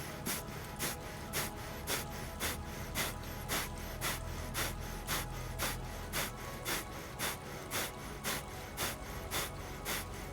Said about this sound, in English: Switching straight into breath of fire.